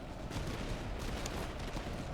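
Massed musket volley in a Napoleonic-era battle from Master of Command, a dense crackling roar of many shots blending into continuous rolling gunfire, loud and sustained with no voices.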